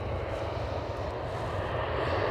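An airliner landing on runway 27 at Amsterdam Schiphol, its engines producing a steady, continuous roar with a deep low rumble, heard close by from beside the touchdown point.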